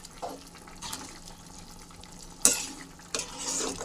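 Spoon stirring masala powder into a simmering pasta curry in a pan, with a few sharp scrapes and clinks against the pot over a low background, no voice.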